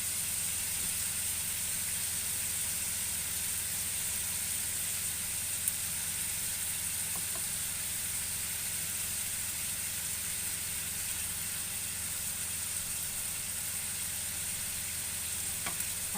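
Shawarma meat fries in a pan over high heat, giving a loud, dense, unbroken sizzle that holds steady throughout with no talking.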